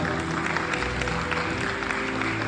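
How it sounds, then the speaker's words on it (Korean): Steady clapping from a wedding reception crowd fills the scene at moderate volume, continuous without pauses, with faint voices mixed underneath. "여러분 다시 한번 큰 박수 부탁드리겠습니다"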